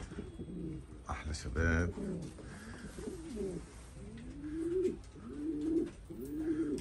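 Pigeons coo in repeated soft, throaty rolls close by, while a person briefly speaks near the start.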